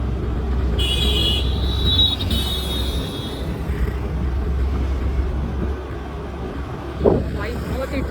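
A scooter rides slowly through a busy Delhi market on a cold winter evening during wedding season, engine humming under constant traffic noise, with a brief high horn toot early on and a short louder honk near the end.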